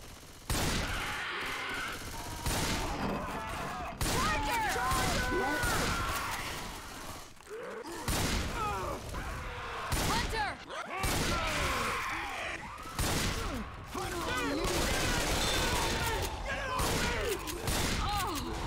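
Rapid bursts of gunfire in a video game firefight aimed at a tank, clustered volleys of sharp shots with brief gaps and occasional crashes, loud and continuous over most of the stretch.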